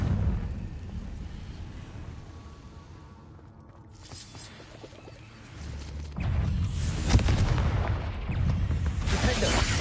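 Explosive blast from the Confringo curse in Hogwarts Legacy, a deep booming burst that swells in midway through and holds as a loud rumbling roar to the end, with no talk.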